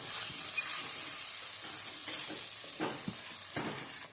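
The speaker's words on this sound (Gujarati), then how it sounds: "હળદર હવે આપણે શેકવાનું છે ઘીમાં" Fresh green turmeric roasting in ghee in a pan, a steady close sizzle with occasional stirring scrapes, no talking.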